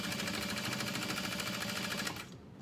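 A sewing machine runs steadily with a fast, even whirring clatter, basting a side pocket onto a satchel bag, then stops abruptly near the end.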